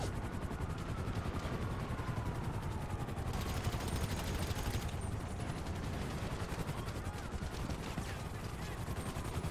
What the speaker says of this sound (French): Qui me tire dessus là, c'est un hélicoptère de la police